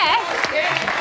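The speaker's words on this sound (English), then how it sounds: "give Jeff a round of applause" A studio audience claps for Jeff at a Big Brother UK 2012 spin-off show, the applause running under a host's voice that talks through the whole stretch.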